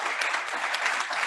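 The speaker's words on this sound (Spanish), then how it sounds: "Un aplauso." An audience applauds at the close of a Rotary club luncheon where a public health minister spoke, a dense, steady burst of clapping with no talking over it.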